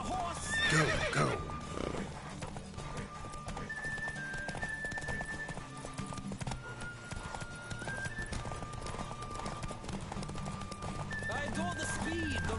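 Horse in The Witcher 3 galloping with steady clip-clop hoofbeats and a loud neigh near the start, running on under music and a voice talking throughout.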